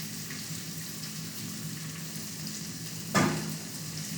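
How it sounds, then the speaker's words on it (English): Cottage pie ingredients sizzle and crackle steadily in a saucepan on an electric hob at medium heat, a constant frying hiss, with a brief clink of utensil against the pan near the end. "So you've got a sizzle, but it's not so hot that it's going to start to burn."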